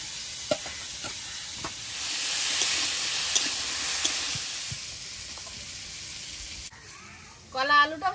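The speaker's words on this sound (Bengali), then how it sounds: "কলা আলুটা ভালোভাবে ভেজে নিয়েছি" Plantain and potato pieces fry in a pan with a steady sizzle and occasional stirring scrapes, close up, before a voice speaks briefly at the end.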